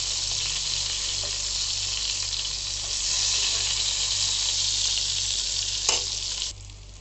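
Eggplant slices fry in a pan with a steady, bright sizzle that stays fairly quiet. It swells a little midway as the pieces are turned and drops off near the end.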